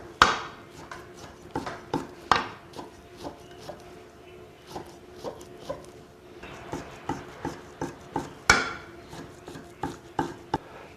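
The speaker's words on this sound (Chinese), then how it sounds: "现在来切一下，先给它切碎，然后再来剁。" Beef being finely chopped with a knife on a board after trimming away membrane, for fried beef meatballs: a steady series of sharp, close knife thuds at an irregular rhythm, with a few louder strikes and no talk.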